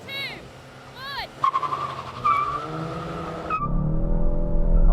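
A Volkswagen Golf GTI launches in a drag race, tires squealing and skidding as the engine revs rise and then roar steadily up close, with people talking over the start.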